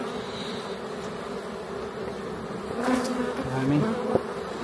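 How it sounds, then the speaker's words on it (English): Honey bees buzz densely around a hive box, a steady close droning swarm hum that swells slightly near the end, with a brief spoken phrase over it. "There's many bees in there."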